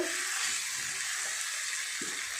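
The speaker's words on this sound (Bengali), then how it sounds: "জল দিয়ে দেব" Steady frying hiss from spices and vegetables in a pan with water poured in, a continuous sizzle with a few faint bubbling pops, no voices.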